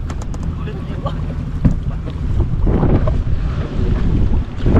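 Strong wind buffets the microphone aboard a small fishing boat at sea, a steady loud roar with gusts that swell in the second half, mixed with water and hull noise; a voice speaks briefly.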